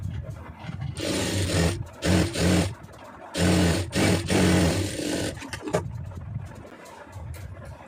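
A sewing machine stitching a blouse lining runs in several short, rhythmic bursts of close mechanical whirring, separated by brief pauses.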